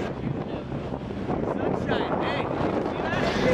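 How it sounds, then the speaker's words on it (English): Boat ride across open water toward an island in the Azores, with steady broadband wind buffeting and engine and water rush throughout, loud and close, with voices faintly mixed in. "So we get on this boat."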